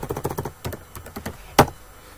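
Someone types a PowerShell command on a computer keyboard: rapid, close key clicks in an uneven run, then one louder keystroke near the end, like the Enter key. No one speaks.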